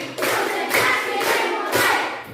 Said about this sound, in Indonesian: kita tepuk keren dulu